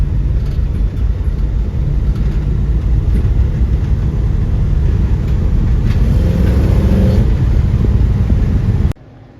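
A car with a vintage B&M 60 series shifter drives off, its engine a loud, steady rumble throughout before cutting out abruptly near the end.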